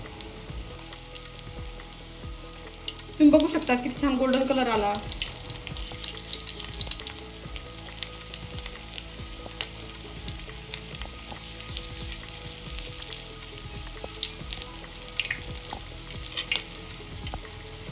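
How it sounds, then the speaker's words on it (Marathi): Mutton tawa kababs fry in oil on a street-style griddle, with a continuous crackling sizzle at close range. A voice speaks briefly early on, and the sizzle carries on steadily afterward. "इथे आपल्याला छान गोल्डन कलर येईपर्यंत तवा कबाब तळून घ्यायचा आहे"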